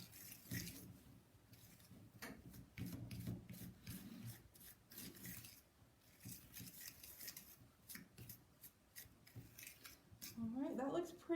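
Bath bomb mixture is stirred and scraped in a bowl, producing a steady, gritty rasping rhythm up close, growing louder toward the end with a voice briefly heard.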